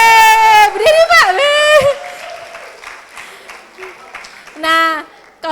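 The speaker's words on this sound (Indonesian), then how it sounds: "Tepuk tangan buat Pak Fajri." Audience applause at a university communication studies orientation, clapping and scattered whoops from a crowd as a lecturer is introduced, with loud voices and exclamations rising over the clapping at the start and again near the end.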